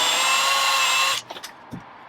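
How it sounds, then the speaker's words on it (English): A power drill whines steadily for about a second while pre-drilling a hole in a van conversion, then stops, followed by a few soft knocks and clicks. "pre-drilling another hole"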